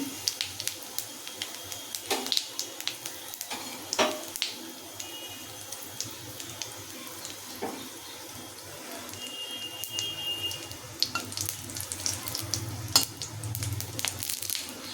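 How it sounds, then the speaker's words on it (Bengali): Dried chili, fennel seeds and a bay leaf fry in hot oil for a lentil dal, a faint, uneven sizzle with scattered sharp pops and crackles and a few soft clatters. "লঙ্কাটা মৌরিটা ভালো করে ভাজা ভাজা হয়ে গেলে"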